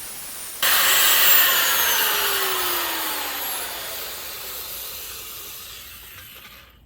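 A Stone Fabrication wet polisher spins against a lapidary rock, giving a loud, steady hissing whine that starts abruptly and slowly winds down over several seconds, with a falling tone sliding beneath it.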